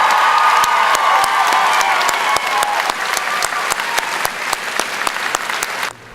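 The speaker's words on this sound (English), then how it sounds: "Can we have one more round of applause for all of our Dr. Robert Alois Hall of Fame recipients?" Loud, sustained applause with some cheering from a school ceremony audience honoring Hall of Fame recipients at a Louisiana senior recognition event, sharp distinct claps standing out in the mix until it cuts off abruptly near the end.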